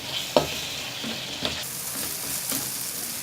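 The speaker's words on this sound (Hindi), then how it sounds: "मिक्स करते हैं इसको अच्छी तरह से" A spoon works through okra masala with yogurt in a pan over low flame, producing a few distinct scrapes and knocks over a constant bubbling sizzle.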